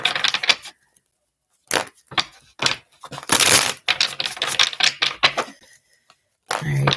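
A tarot card deck is shuffled by hand in short bursts of crisp, riffling card clatter broken by brief pauses, close to the listener.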